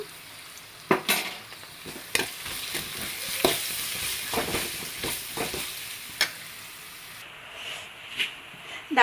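Ginger garlic paste sizzles steadily in a hot pan, with a spoon clattering and scraping as it is stirred, giving sharp ticks over a constant frying hiss.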